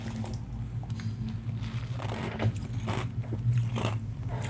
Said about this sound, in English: Pardon the chewing, the masticating noises